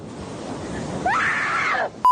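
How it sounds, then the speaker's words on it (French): A woman's sustained high scream rising abruptly out of quiet background noise, held loud and steady for under a second before cutting off, followed by a short sharp tone. "Faut que je crie un coup."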